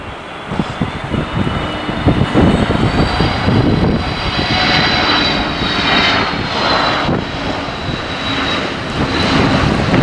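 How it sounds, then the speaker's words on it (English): SAS Airbus A320ceo jet passing at night, a steady loud engine roar with a whining tone that swells and holds throughout. "here comes the SAS A320ceo"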